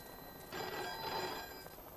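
An old telephone bell rings in a 1974 Bollywood film scene, one brief burst of bright, rattling ringing, moderately quiet against a faint background.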